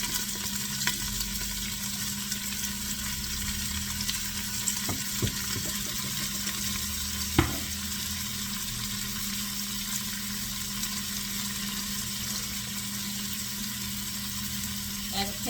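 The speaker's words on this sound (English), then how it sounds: "Put all of your leeks in." Leeks sizzle in a hot pan over medium-low heat, giving a steady hissing crackle with a few sharp clicks and pops. Faint background noise sits under it.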